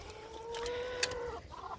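Backyard chickens make a drawn-out, fairly close clucking call that rises and falls for about a second and a half, with no talking.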